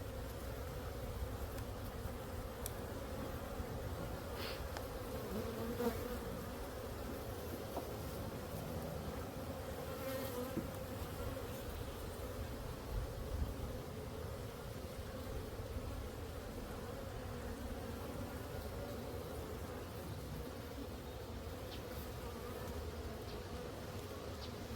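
Honeybees hum in a dense, continuous buzz around an opened beehive during a pre-winter hive check, close and steady throughout with occasional individual bees droning past.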